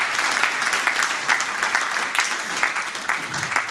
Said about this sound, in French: Je vous prie de l'applaudir.